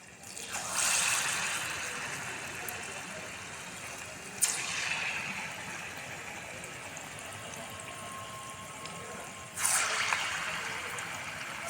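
Palm fruit fritters sizzle in hot oil, with a steady close hiss that flares up sharply each time a new piece of batter drops into the pan.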